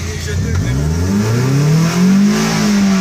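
A Toyota Vios engine with a fuel-delivery fault revs up, its pitch climbing unevenly with a rough, sputtering, misfiring character, loud and close throughout.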